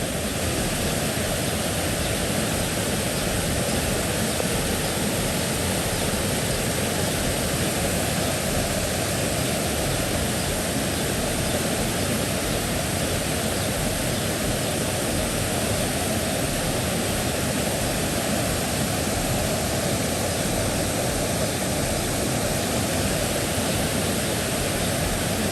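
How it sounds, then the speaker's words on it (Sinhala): Kalupalama Ella waterfall at Mandaram Nuwara in Sri Lanka, swollen after rain, roars in a steady, dense, loud rush of falling water that holds unbroken for the whole stretch, with no voices. "අද වැස්සත් එක්ක මේ ජලපහර දර වැඩි."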